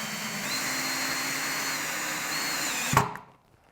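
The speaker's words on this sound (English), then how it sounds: "we can screw" A power drill driving a screw to fix the front panel onto a wooden barn owl nest box: a steady, close whirring hum for about three seconds, ending in a brief jolt and then quickly dying away.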